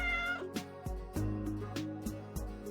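House cat meowing in the mobile story game Choices: Stories You Play, set in a sunny mansion: a series of clear, close, repeated meows in a regular rhythm over a sustained musical background.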